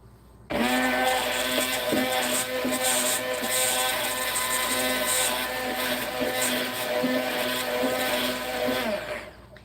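A stick blender whirs in its small container, blending egg, mustard and vinegar into mayonnaise. It gives a loud, steady motor drone for about nine seconds after a sudden start, with no talking.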